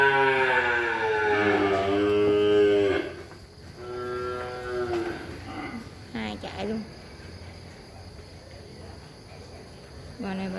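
Cattle at a beef cattle trading farm moo loudly and close by, with one long drawn-out call followed by several shorter moos and some talking.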